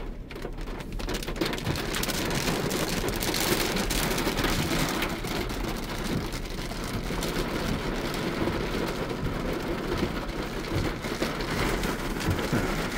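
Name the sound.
rain falling on a car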